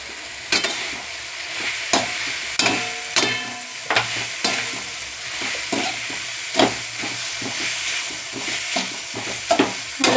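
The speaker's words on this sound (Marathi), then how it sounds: "आता टाकायचा आहे पास्ता सॉस." Pasta sauce poured into a hot pan and stirred, with a steady sizzle under repeated scraping strokes of a spoon against the pan, close and fairly loud, no talking.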